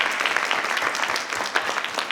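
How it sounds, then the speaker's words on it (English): An audience at a school board meeting claps in sustained, dense applause, many hands at once, steady and moderately loud for about two seconds. "Yes, another round of applause."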